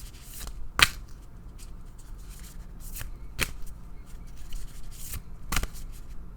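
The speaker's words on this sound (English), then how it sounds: "I shuffle until Spirit asks me to stop." A tarot deck being shuffled by hand, with scattered soft papery riffles and slaps that come in a few separate, louder bursts over a quiet background.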